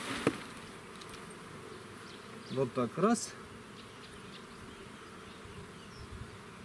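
A steady hum of many buzzing Buckfast honey bees being shaken into a hive, with a brief burst of spoken words partway through and a soft knock near the start.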